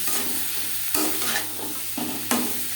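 A spatula stirs cabbage curry with potatoes, tomato and peas in a hot pan, giving close scraping strokes over a constant oily sizzle, with a few sharper knocks of the utensil against the pan.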